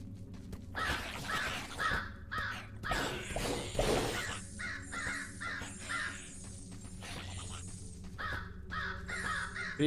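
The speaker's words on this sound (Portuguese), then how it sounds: "O corvo ataca sozinho." Crows caw repeatedly in the video game Ghostlore, harsh calls overlapping with game attack hits and shattering effects, fairly loud and continuous over a low background score throughout.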